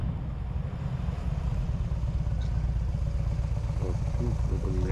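An American motorcycle engine drones steadily at a low pitch, with wind and road noise, recorded while riding at around 150 km/h.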